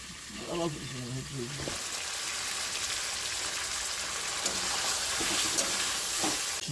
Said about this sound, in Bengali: এবার ডিমগুলো দিয়ে একটু কষি